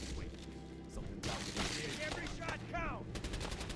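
Grenade explosions and gunfire in the video game Fallout 4, a dense burst of blasts and rapid shots with crashing debris under a voice, loud and continuous.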